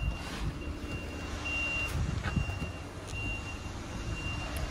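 Truck reversing beeps repeat steadily at a distance near retail shop dumpsters, a thin regular tone over a low rumble of traffic and engine noise.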